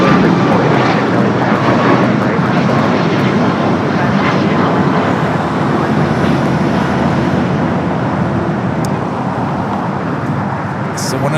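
An airliner takes off from runway 25 right at Los Angeles airport, its engines a loud, steady broadband roar that holds for the whole stretch, with faint traffic noise underneath.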